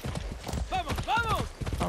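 Hooves of a horse clip-clop in Far Cry 6, a quick run of sharp hoof strikes under a man's excited speech, with a short whinny-like call in the middle.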